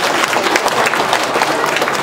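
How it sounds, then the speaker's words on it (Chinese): Steady applause from an audience at a foundation's fifth anniversary celebration, honoring a founding director; dense, continuous clapping fills the short stretch without pause. "给林代一点掌声"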